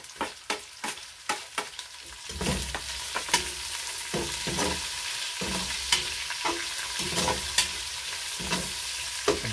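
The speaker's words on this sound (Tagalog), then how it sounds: "So lagay na natin yung sibuyas natin." Onions frying in a pan while laing is being cooked, with steady sizzling and a run of sharp stirring clicks near the start, then a continuous fry with scattered scrapes; no talking.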